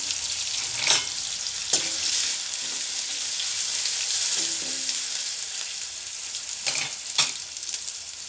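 Roasted peanuts with a little turmeric frying in hot oil, giving a steady close sizzle with a few louder stirring scrapes, and no talk.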